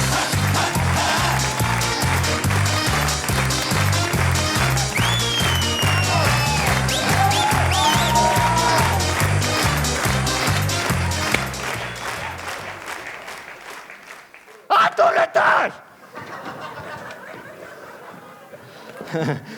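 A comedy league show audience applauds on stage, dense sustained clapping with some voices mixed in, loud for about twelve seconds before thinning out, with a brief renewed burst near the end.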